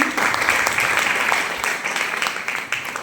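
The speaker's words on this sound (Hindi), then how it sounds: "मैं उनके भी सम्मान में जोरदार ताली चाहती हूँ" Audience applause at an event honouring a guide: steady, loud, dense clapping from a crowd that continues throughout and eases slightly toward the end.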